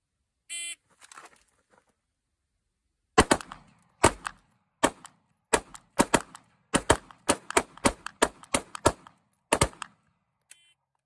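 Rapid gunfire from a timed shooting drill aiming for ten rounds in ten seconds: a short beep, then a string of sharp, loud, close shots with irregular spacing, mostly alone, ending with one faint final pop.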